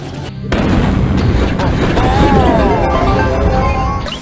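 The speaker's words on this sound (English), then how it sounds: "Right here, I fired my super at El Primo." Shelly's super shot in the Brawl Stars game fires as a single loud, punchy blast that rolls into sustained booming and crackling effects, with game music continuing underneath.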